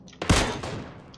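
A single rifle shot in the PUBG Mobile battle royale game, a sharp close crack followed by a short decaying tail, standing alone without talk.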